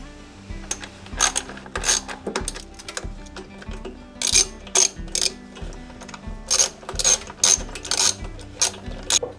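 A ratchet tightens nuts during a carburetor replacement on an MTD Gold yard tractor, producing loud, close bursts of rapid clicking in short repeated strokes separated by brief pauses.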